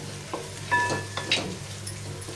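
Spoon stirring crushed peanut and niger seed powder into a sizzling pan for dodka (ridge gourd) bhaji, with soft scrapes and light clinks over a faint steady fry, no talking.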